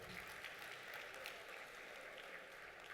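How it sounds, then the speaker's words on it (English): Steady applause from an awards-ceremony audience in the United Arab Emirates, a dense, even wash of clapping that holds at a low level for about three seconds without a break. "A round of applause to Trevor"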